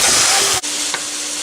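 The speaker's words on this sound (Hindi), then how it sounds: "अब गोश्त को इस तरह से फ्राई कर लें कि इसका कलर चेंज हो जाए" Meat fries in hot oil for nihari, producing a loud, steady sizzle and hiss that dips briefly before continuing.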